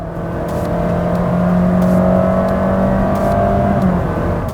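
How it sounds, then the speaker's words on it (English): A 2022 Honda City Hybrid accelerates from inside the cabin, its engine and motor giving a steady whirring drone that rises gradually in pitch, with faint clicks and no voices. "Honda has sort of mimicked the whole idea of a gear shift. So if I push my foot down now,"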